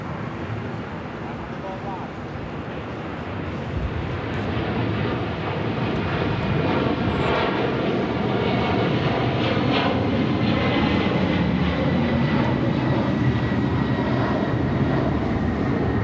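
Delta 119 Heavy jet departing LAX, its engine roar building from a moderate hum to a loud, sustained broadband thunder after a few seconds and holding strong to the finish.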